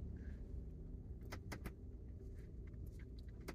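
A car rolls along a bumpy dirt country road in the desert, a steady low rumble from inside the cabin with a few quick rattles and thumps over bumps, no one speaking.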